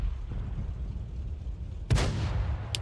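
A Tiger heavy tank's cannon fires in World of Tanks, a single sharp boom with a short rumbling tail cutting through low engine drone, followed by a faint metallic ping.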